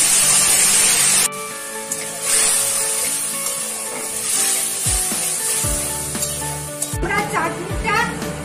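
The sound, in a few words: mango pulp poured into hot oil with spices, sizzling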